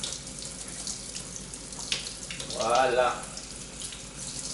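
Tap water runs in a brief, bright burst while a jar is rinsed at a kitchen sink, fading out after about a second, preceded by a single short spoken word.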